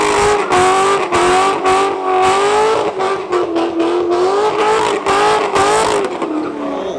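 A 2007 C6 Chevrolet Corvette engine revs hard and close, its loud, rising and falling tone broken by quick throttle blips and gear changes, with no talking.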